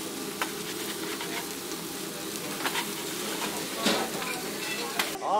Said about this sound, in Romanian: Plitele restaurantelor au sfârâit în continuu